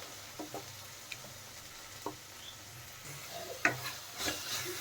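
Spices and mushrooms fried in a pan with capsicum, faint scattered taps and scrapes of stirring over a soft hiss of frying, quiet and close.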